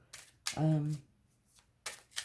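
A deck of playing cards being shuffled in quick riffling bursts, close and fairly loud, with a voice speaking briefly in the middle between the card sounds.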